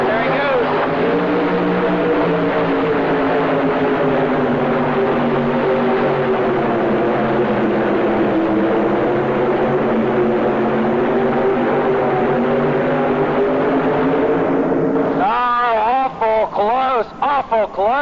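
Supercharged Chevy-powered tractor pulling machine at the 1985 NTPA Indy Super Pull, a loud continuous engine roar held steady for about fifteen seconds before fading, with a public-address announcer talking over it near the end.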